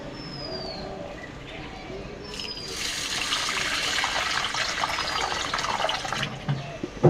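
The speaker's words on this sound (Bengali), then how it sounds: "আমি চালগুলো এইভাবে কষলিয়ে কষলিয়ে ভালো করে ডলে ডলে ধুয়ে নেব।" Wheat rice grains being rubbed and washed by hand in a pot of water, a steady sloshing and swishing that grows louder midway, with faint bird calls in the background.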